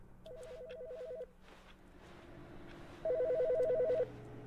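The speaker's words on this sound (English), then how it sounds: "There's a phone ringing." An electronic telephone in The Stanley Parable rings in two short trilling bursts separated by a pause, fairly clear against a quiet low hum.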